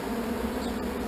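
Honeybees in an artificial swarm box make a dense, steady buzzing drone that holds at an even level for about a second, close and continuous with no voices.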